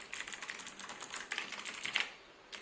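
Rapid, crisp keystrokes clatter on a TVS Gold Bharat mechanical keyboard, a quick irregular run of clicks heard up close with no talking.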